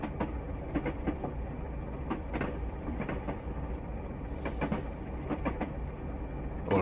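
A Class 37 diesel locomotive in Train Simulator Classic runs steadily along the line to Kyle of Lochalsh, a continuous rumbling drone with rhythmic clicking over the rail joints, loud and close throughout.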